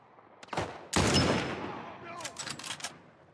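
Gunshots in the video game The Last of Us Part 1: a sharp shot, then a louder blast with a long echoing tail, followed by a quick burst of several cracks at close range.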